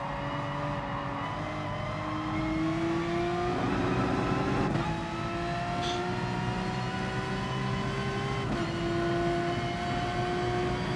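A Porsche race car in Gran Turismo Sport, in an FIA practice race, drives with its engine droning steadily. The revs climb through the gears, broken by several quick shifts, loud and continuous throughout.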